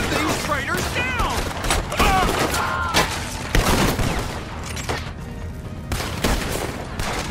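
Gunfire rattles through a shootout with traitors in Red Dead Redemption 2, repeated sharp shots and bursts spread across the scene, layered with voices and mechanical clatter.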